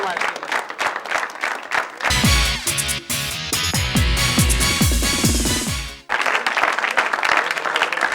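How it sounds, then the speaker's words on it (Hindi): A studio audience at a Pakistani comedy talk show bursts into applause, then a loud musical sting takes over midway. Brisk clapping returns afterward, fairly close and lively. "बहुत सारी तालियां"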